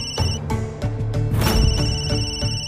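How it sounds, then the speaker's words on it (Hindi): A telephone rings in repeated electronic bursts, a bright warbling ringtone pulsing steadily and fairly loud with no voices. "बत्सला जी फोन कर रही है।"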